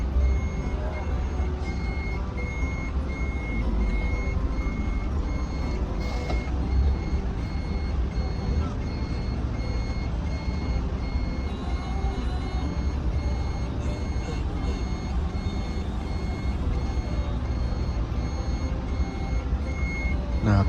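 Intercity bus cabin on a Jetbus 5 SHD single-deck coach traveling Denpasar to Kudus, with a steady warning alarm beeping at regular intervals over constant loud engine and road rumble throughout.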